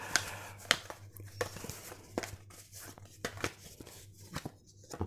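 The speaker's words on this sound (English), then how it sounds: "So we'll shuffle them up." Board game tiles for Renegade being shuffled by hand, a close, quiet run of irregular clacks and rustling scrapes with brief gaps, no talk.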